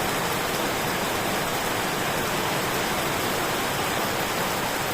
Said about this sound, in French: Quand il pleut comme ça, je pense que vous n'entendez rien.